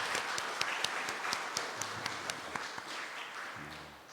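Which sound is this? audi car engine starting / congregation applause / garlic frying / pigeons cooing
congregation applause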